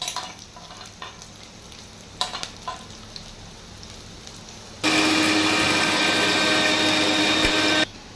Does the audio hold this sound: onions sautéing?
yes